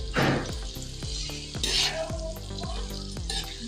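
Chicken sizzles and fries in hot oil in a karahi, with a loud burst as it hits the pan, then a steady crackle under repeated stirring scrapes.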